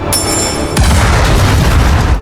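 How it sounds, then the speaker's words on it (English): A loud, close explosion effect booms in with a sharp crack partway through, then leaves a dense, rumbling roar that carries to the end. "As the explosion sounded, everything came to an end."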